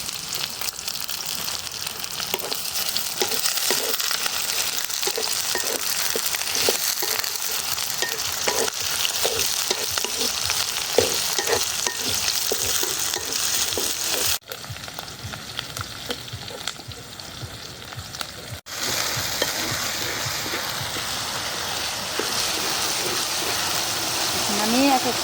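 Chopped onion and green chili fry in a pan, a loud steady sizzle with repeated stirring scrapes, briefly quieter midway, while a person talks over it.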